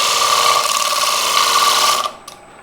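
A gouge cuts into a spinning wood bowl on a lathe, producing a steady, loud, buzzy shaving whine with a strong tonal hum that holds for about two seconds and then suddenly stops, leaving a faint brief tap.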